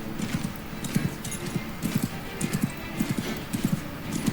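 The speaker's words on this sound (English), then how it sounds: "I have enough skill to ride this horse, so I guess I can get there faster." Hooves clip-clop in a steady galloping rhythm as a horse is ridden in the medieval combat game Mount and Blade 2 Bannerlord, repeated thuds close and moderately loud with no talk over them.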